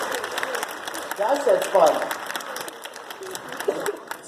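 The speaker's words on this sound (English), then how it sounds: "Nice round of applause for Rachel for doing a wonderful job." An audience at a science stage show applauds a young volunteer named Rachel, with sustained clapping from the crowd while someone speaks over it.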